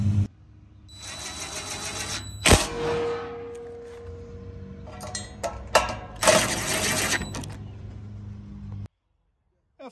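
Power driver driving screws into the braces of a Blackstone griddle base during assembly, with a few whirring bursts and clicks close by, separated by quieter handling noise.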